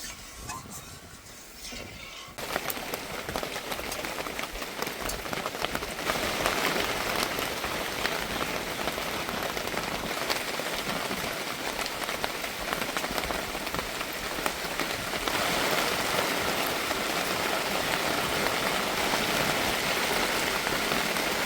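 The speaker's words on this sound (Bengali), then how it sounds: "জোর বৃষ্টি আসছে, কি হবে কে জানে।" Heavy rain pours down in a dense, steady hiss of drops drumming on surfaces, swelling sharply after a quieter start and continuing loud and unbroken with no talk.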